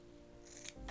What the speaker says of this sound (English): I'm gonna cut off what I determined was too much elastic